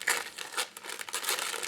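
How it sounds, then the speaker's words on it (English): Close, busy crinkling and crumpling of wrapping paper as a gift package is unwrapped, continuous papery rustles with a few brief tearing sounds. "Alright, looks like I have to start unwrapping."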